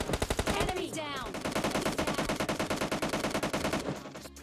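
Automatic gunfire from PUBG Mobile Lite gameplay rattles in rapid sustained bursts, loud and close, with a short pause before the firing resumes.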